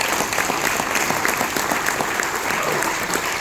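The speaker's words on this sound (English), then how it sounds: "Can we get a round of applause for Patricia?" Audience at a member growth and retention presentation applauding, a dense, steady wash of clapping from a large crowd that holds at full strength throughout, with no speech over it.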